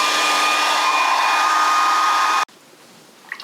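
A hair dryer blows steadily at close range over a wet watercolour painting of a cottage, a loud continuous whir that cuts off abruptly partway through and leaves quiet room tone.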